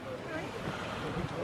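A small beck flows fiercely beside a fell walk near Easedale Tarn, giving a steady, full rush of water mixed with some wind buffeting the microphone.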